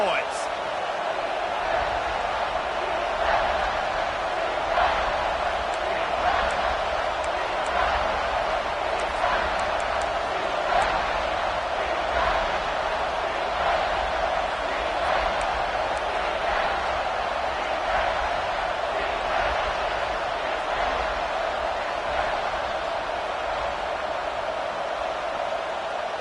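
Steady roar of a stadium crowd in a Texas vs Georgia college football video game, a dense continuous wash of noise holding level throughout, with faint rhythmic chanting pulses and talk mixed in.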